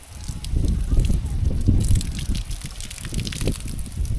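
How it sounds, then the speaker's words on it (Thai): Spring water piped down from the mountains in a remote Lao valley village pours continuously in a steady close gush, splashing with irregular bursts as someone washes nearby. "แบบน้ำดินไหลตลอดเลยพี่น้องปิดบ่ได้เลย"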